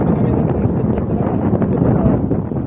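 Loud, strong wind in England at night buffeting the microphone with a continuous roaring rumble, steady and close throughout.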